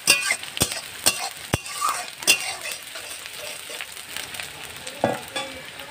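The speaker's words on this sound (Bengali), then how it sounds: "পেঁয়াজটা একটু ভাজা ভাজা হবে।" Chopped onion fries in hot oil with whole garam masala for a village-style chicken chaat, a moderate steady sizzle broken by sharp clinks and scrapes of a spatula stirring against the pan.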